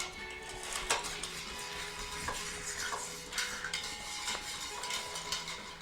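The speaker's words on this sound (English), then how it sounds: "I am using the mixing pint because we're going to go ahead and stir this cocktail." A bar spoon stirs a cocktail over ice in a mixing pint glass, producing a steady, close swirl of light clinking and rattling ice with occasional sharper taps against the glass, with no talking.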